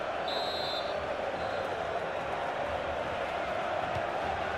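Stadium crowd noise in the FIFA 15 video game during a Burnley match, a steady dense roar of supporters that stays even and loud throughout with no clear individual voices.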